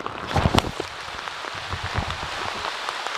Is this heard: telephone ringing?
no